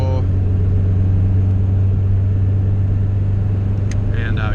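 Turbocharged Honda EG Civic with a GSR engine swap driving down a road in Mexico, its steady loud low engine drone and road rumble filling the cabin throughout, with a brief high chirp near the end.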